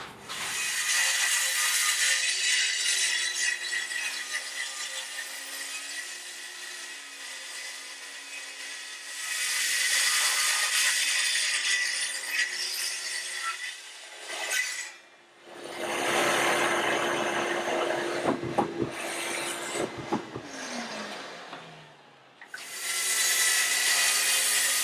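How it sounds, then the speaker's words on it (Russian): A handheld circular saw cuts scrap wood boards in half down the center, producing loud, sustained whining cuts broken by short pauses and a brief drop in pitch as the blade slows between passes. "я распилю их пополам, по центру ручной дисковой пилой"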